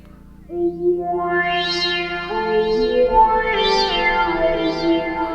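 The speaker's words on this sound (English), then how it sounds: "now we got our reverb" Sustained tones from a Synthstrom Deluge synthesizer with swooping, sweeping overtones wash out into a spacious reverb tail, layered chords building over several seconds.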